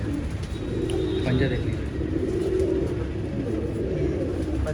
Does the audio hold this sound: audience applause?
no